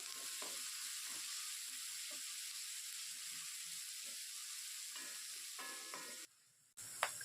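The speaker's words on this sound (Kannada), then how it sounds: "ಈರುಳ್ಳಿನ ಸೇರಿಸ್ಕೊಂಡು ಈರುಳ್ಳಿ ಜಸ್ಟ್ ಅದು ಟ್ರಾನ್ಸ್ಪರೆಂಟ್ ಬರೋ ತನಕ ಇದನ್ನು ಹುರ್ಕೊಂಡ್ರೆ ಸಾಕಾಗತ್ತೆ" Onions sizzling and frying in a pan for a drumstick leaf and egg stir-fry, with a steady close hiss and scattered soft stirring clicks, then a sudden brief drop near the end and a sharp clatter.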